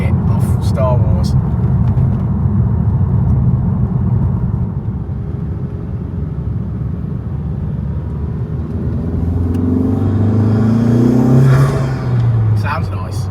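A Honda Civic FK2 Type R on its standard exhaust idles with a steady low rumble, then revs up near the end with a rising, swelling engine note.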